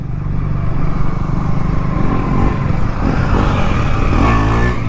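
Motorcycles on a group ride roar loudly up close, their engines droning steadily with slight rises in pitch as the riders rev.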